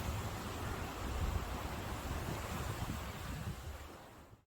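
Ocean waves break on the beach at Dondra Head, the southern tip of Sri Lanka, as a continuous broad wash of surf mixed with wind noise, steady throughout and then cutting out at the end.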